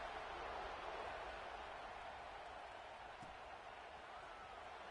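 A football stadium crowd in the video game NCAA 26 keeps up a steady, dense roar of buzzing noise with no break.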